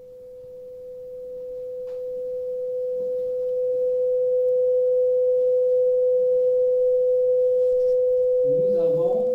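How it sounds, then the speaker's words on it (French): A pure sine test tone holds one steady pitch, its level climbing gradually over the first few seconds and then staying constant and loud, with a faint voice entering briefly at the very end. "Donc je vais demander à ma collègue Carole de monter le son de façon à arriver jusqu'à 1 volt"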